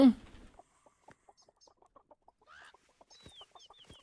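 A chicken clucks while carried in the survival video game Tree of Life: Oddria, faint short clucks in a quick irregular series, with a brief louder squawk and small chirping calls near the end.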